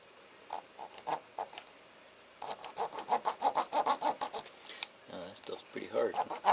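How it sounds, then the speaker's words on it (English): A small piece of hacksaw blade saws through a hard material during a guitar repair, giving sparse scraping strokes at first, then a faster rhythmic run of close, rasping back-and-forth cuts. "Got a little piece of a hacksaw here. I'm just gonna use that to chop it up here."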